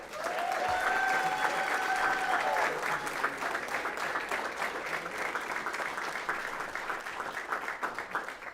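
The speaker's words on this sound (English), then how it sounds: "How about we give them a round of applause?" Sustained applause for honored high-achieving student athletes at a school board meeting, steady crowd clapping across the whole stretch with a brief whistle-like tone early on, loud and continuous before easing slightly.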